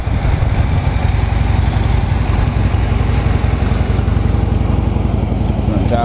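A Harley-Davidson Road King FLHR with its factory exhaust idles nearby in a steady, even low rumble that continues unbroken throughout.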